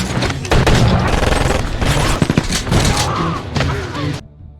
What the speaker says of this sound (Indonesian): sampai terjadilah baku tembak di sana